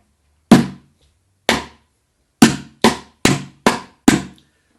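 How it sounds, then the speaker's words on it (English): Drumsticks strike a plastic bucket seven times, alternating between the hollow top and the higher, sharper rim, with crisp close hits in an uneven rhythm and quiet gaps between. "But now let's add the rim,"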